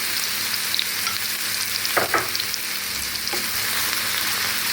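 Onion frying in a mix of lard and oil, a dense bright sizzle held steady throughout, with a couple of short scraping stirs cutting through near the middle.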